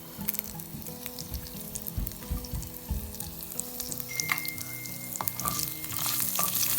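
Curry leaves and urad dal fry in hot oil as a tempering for peanut chutney, giving a close, bright sizzle with scattered pops and crackles that grows louder toward the end.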